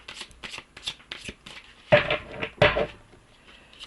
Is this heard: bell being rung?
no